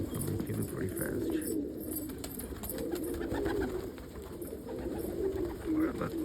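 Pet pigeons in a loft coo and rumble close by as they are fed pizza crust, with their low calls repeating over the whole stretch.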